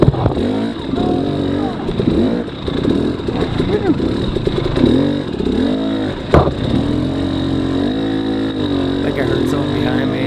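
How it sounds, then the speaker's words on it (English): A dirt bike races through a rainy, muddy hare scramble, its engine revving up and down and bogging slightly under load. A rider talks over the loud, nearby motor, and occasional clatter cuts through. "I can feel the bike bogging down a tiny bit"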